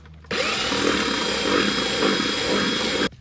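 A power drill bores a hole in the rim of a maple sap bucket, one loud continuous whirring burst of about three seconds that starts and stops abruptly, close up and alone.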